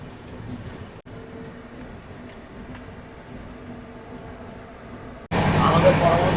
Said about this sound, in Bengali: আমাদের ট্রেন ছেড়ে দিল বিজয়নগরম জংশন থেকে চার নম্বর প্ল্যাটফর্ম